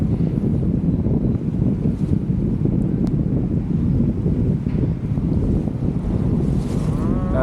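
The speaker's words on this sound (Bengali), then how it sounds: "নদী বেশ মোটামুটি ভালোই উত্তাল রয়েছে আজকে।" Strong wind buffets a small passenger launch on a rough river between Munshiganj and Narayanganj. Constant loud gusting roars over the splash of choppy water and the boat's hum, with no talking.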